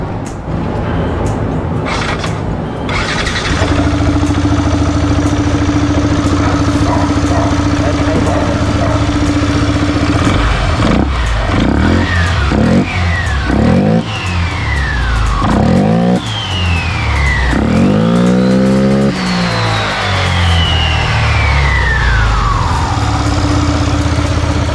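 A scooter engine with a Speedtuner Wing Bell CVT part starts and idles, then revs up and down repeatedly with rising and falling whine, loud and close.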